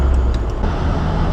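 A rear-wheel-drive Toyota AE86 drift build with 182,000 miles running on the road, heard from inside as a loud, steady low engine drone with road rumble and no talking.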